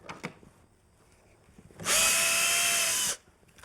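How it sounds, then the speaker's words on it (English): A power drill bores into wood while building rustic outdoor furniture, a loud steady whine lasting just over a second after a few light knocks and handling sounds. "So I'm going to drill for this using a cross technique."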